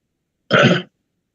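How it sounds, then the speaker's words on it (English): A single short cough over the phone during a committee meeting call, slightly muffled and phone-like, standing alone in silence. "you just coughed on the phone"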